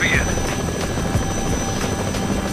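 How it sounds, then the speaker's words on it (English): A helicopter in the video game Trauma Team keeps up a loud, steady rotor drone with a faint rhythmic chop. A brief high tone sounds at the start. "It's the chopper!"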